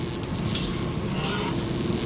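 A boiling, sparking liquid floods the machine in the video game Amnesia: A Machine for Pigs, giving a loud, steady sizzling and hissing wash with crackling bursts throughout and no voices.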